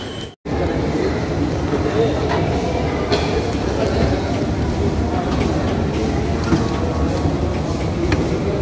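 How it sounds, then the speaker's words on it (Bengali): A Howrah–Esplanade metro train runs through the tunnel beneath the Ganga river, a steady loud rumble of wheels and carriage noise filling the whole stretch after a brief dropout at the start. "আর হাওড়ায় মেট্রোর জার্নি কেমন লাগলো অবশ্যই আমাদের কমেন্টে জানাতে পারো"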